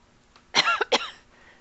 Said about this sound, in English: Oops, pause and cough.